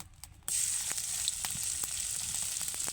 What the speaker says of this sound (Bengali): তেল গরম হয়ে গেছে, এখন তেলের ভিতরে আমি আদা কুচি দিয়ে দেব